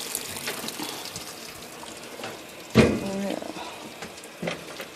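A washing machine runs an extra rinse cycle on fleece flippers, its water splashing and trickling steadily at moderate level with one louder slosh midway.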